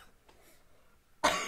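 A single sharp cough bursts out near the end during a drawing game, loud and close after a quiet stretch.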